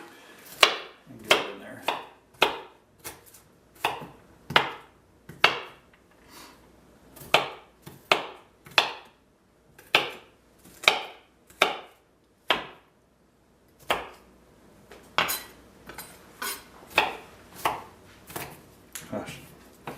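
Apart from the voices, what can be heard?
chopping vegetables for pad thai on a cutting board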